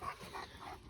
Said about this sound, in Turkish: Arkadaşlar serseri köpeklerim